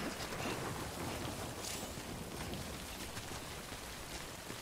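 Steady, dense rain from the video game Death Stranding pours continuously at close range, a broad hiss of drops on surfaces with a faint low rumble underneath and no voices.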